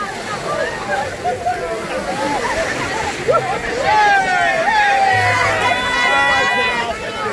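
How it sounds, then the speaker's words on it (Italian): Swimmers at a New Year's Day sea dip at a Reggio Calabria lido splash seawater on themselves, giving a continuous wash of splashing under loud crowd shouts and chatter. "Eccoli i temerari che si spruzzano l'acqua addosso."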